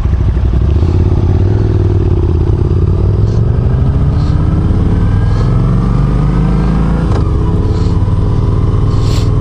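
Kawasaki Voyager touring motorcycle engine running steadily and close, a low rumbling drone with slowly rising pitch as it pulls away, with some faint clatter, and no voices.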